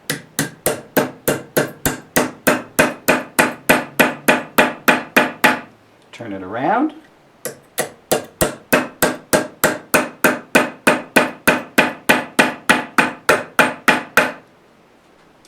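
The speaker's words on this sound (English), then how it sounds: "we're going to hammer it out a little bit closer to the edge this time" A hammer strikes a copper sheet being formed into a shell, a close, rapid and even series of sharp metallic blows that pauses briefly for a short spoken remark, then resumes at the same steady pace.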